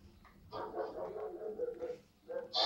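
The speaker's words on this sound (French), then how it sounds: "Désolé pour les aboiements." A dog barks and yips in a quick irregular burst, fairly close, with a sharper bark at the end.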